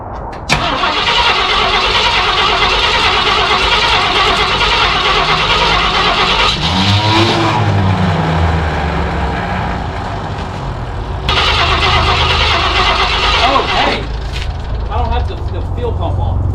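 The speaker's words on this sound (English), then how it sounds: "Try to start it up, I'm going to open the choke up." A cold 1968 Ford F100 pickup engine with its choke opened cranks and catches, running loudly and roughly for several seconds before faltering and cranking again, with people talking nearby.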